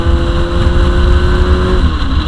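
A motorcycle engine drones loud and close as the bike is ridden, with a steady rumble and whine that shifts pitch near the end as the revs change. No voices are heard.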